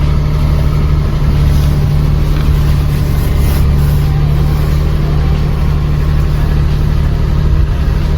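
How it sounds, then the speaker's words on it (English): A 2009 Subaru Justy engine runs at idle while warming up, producing a loud, close, constant drone with a deep steady throb and no variation in pace, with no voices present. "While the engine is warming up"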